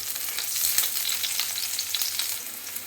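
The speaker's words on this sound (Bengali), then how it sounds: "তাই করলাটাকে আমি যতটা সম্ভব চেষ্টা করব একটু বেশি করে ভেজে নিতে," Bitter gourd frying in hot oil gives a dense, continuous sizzle with crackling spits, close and steady for a few seconds without any talking.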